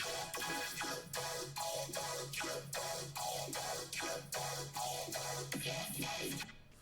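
A bass loop run through a vocoder with a pad as the carrier gives a rhythmic, bright, pulsing synth texture with thinned low end, about a dozen even chopped hits over a sustained tone.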